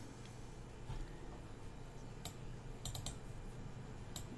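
A computer mouse clicks a few times on a Raspberry Pi while radio frequencies are set up, sharp, quiet, isolated clicks spaced over a few seconds against a low steady hum.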